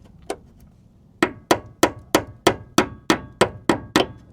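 Someone taps a brake line clip into place on the caliper of a 1998-2002 Toyota Corolla. One light tap is followed by a steady run of about ten sharp metallic taps, close and evenly spaced.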